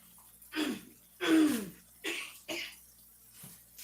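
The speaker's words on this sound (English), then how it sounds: "don't know what that cough is about" A few short, breathy coughs and throat noises in separate bursts, fairly close, with brief pauses between them and no talking.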